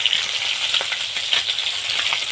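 Bhola fish sizzling steadily in hot oil in a pan, a continuous close crackle with faint scrapes and pops as the pieces are flipped over.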